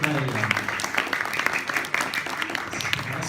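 Audience applause for director Franck Leroy after a screening of his short film at a live event, a steady wash of clapping that runs throughout without letup.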